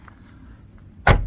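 A single solid thump as a car door on a 1981 Ford Cortina Mk5 1.6 L shuts, heard nearby and loud after a quiet lead-in.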